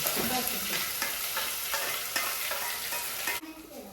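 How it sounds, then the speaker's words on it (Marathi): Ground masala paste sautéed in oil in a pan, a loud, close sizzle broken by regular scraping strokes of a spoon stirring it, fading quieter near the end. "हे वाटण ह्याच्यात घातलंय. हे आता काय करते, चांगलं तेलावर परतून घेते."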